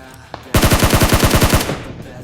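Automatic gunfire in a battle royale video game, a loud, close burst of about a dozen rapid evenly spaced shots lasting just over a second, followed by fading echo.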